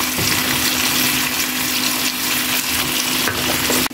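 Potato pieces fry in a pan with turmeric powder, giving a loud, steady, close sizzle that runs without a break and with no voices.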